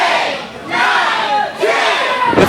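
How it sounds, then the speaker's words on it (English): At an EMERGE Wrestling event, a large crowd chants and counts along in unison, with loud rhythmic shouts rising in waves. "The crowd counting along"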